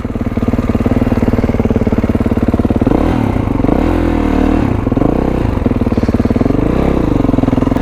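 Kawasaki KLX351 motorcycle engine, loud and close, with a steady thumping idle that rises into repeated revving swells midway, then settles back to a rhythmic idle.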